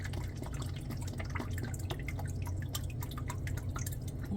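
Fresh water trickles and drips into a cat's bowl outdoors, a soft continuous splashing with scattered droplet taps, quiet and close, with no voices.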